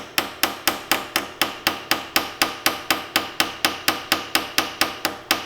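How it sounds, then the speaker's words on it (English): Steady rapid ball peen hammer strikes peening a metal ramrod tip and touch hole liner against a vise, about three per second, sharp ringing taps close by with no voices. "Now we'll take a ball peen hammer and just put it up against your vise or anything solid."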